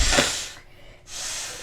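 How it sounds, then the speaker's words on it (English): One person blows their nose indoors in a short, close, forceful nasal blow that is followed by a brief pause and a second softer blow. "Can I blow my nose?"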